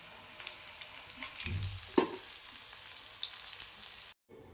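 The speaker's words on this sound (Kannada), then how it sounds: "ಈ ರೀತಿ ಫಿಶ್ ಫ್ರೈನ ನಮ್ಮನೇಲಿ ಆಗಾಗ ಮಾಡ್ತಾಯಿರ್ತೀವಿ." Fish frying in hot oil at home gives a steady, moderately close sizzle that runs without a break for about four seconds, with a few brief clinks and stirring knocks partway through before it cuts off.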